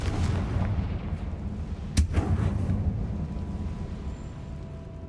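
A Confringo fire spell cast in the video game Hogwarts Legacy: one sharp, loud blast about two seconds in, over a steady rumbling game background.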